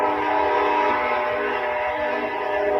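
A loud, sustained train horn blasting steadily and close, one continuous chord-like blare with no break.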